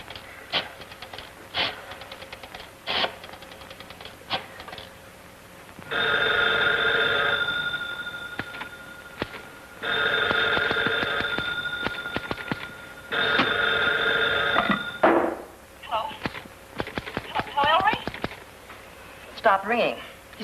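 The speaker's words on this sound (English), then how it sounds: "Stopped ringing. He's taken that phone off the hook and won't answer." A telephone rings in several long bursts, each a bright, rapid trilling bell, with clicking sounds and a voice speaking between the rings.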